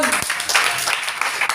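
Applause rises from a church audience honoring God, dense steady clapping filling the short moment, with a voice briefly audible beneath it.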